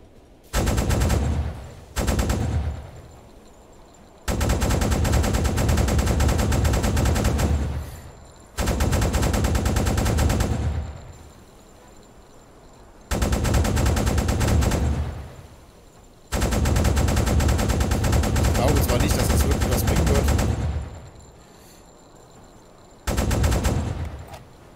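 A quad anti-aircraft gun in the submarine game UBOAT fires at a ship in long, loud, sustained bursts of rapid automatic fire, separated by short pauses, with no talking over the shooting.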